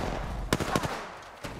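Gunfire in Apex Legends on PC, a quick burst of several sharp, close shots in rapid succession, followed by a single fainter shot, with no talking.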